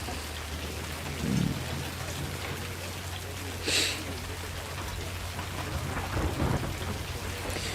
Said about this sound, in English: Well, now it's hailing.